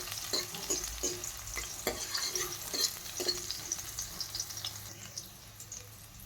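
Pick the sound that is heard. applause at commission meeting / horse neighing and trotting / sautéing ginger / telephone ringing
sautéing ginger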